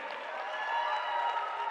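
A crowd at the US national climbing championships, speed finals, applauds the semifinalists with a dense, steady wash of clapping and cheering that carries evenly through the short stretch.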